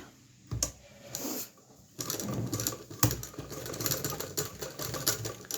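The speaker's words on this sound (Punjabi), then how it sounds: "ਆ ਤੁਹਾਨੂੰ ਦੱਸਦੇ ਹਾਂ ਸਲਾਈ ਕਿਵੇਂ ਲਾਉਣੀ ਪਹਿਲਾਂ ਆਪਾਂ ਲੈਸ ਨੂੰ ਜੋੜਾਂਗੇ" A sewing machine stitches beaded lace onto a velvet frock in short mechanical runs separated by pauses, then settles into a longer continuous whirring run near the end.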